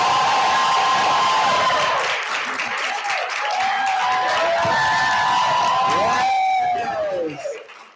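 A live audience cheers, claps and whoops for a speaker, a loud, close crowd roar with high shouts and wavering voices that slowly fades out at the end.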